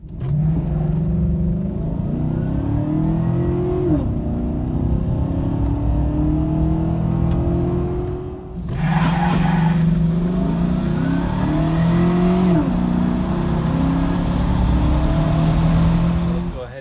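A 2014-2018 Chevrolet Silverado fitted with a Volant cold air intake revs repeatedly, its engine pitch climbing and falling in steady surges over a loud, continuous rumble with a brief dip midway.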